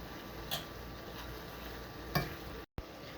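Rice and asparagus stirred in a skillet over low heat give a soft, faint scraping and light sizzle, with a couple of small knocks of the utensil against the pan.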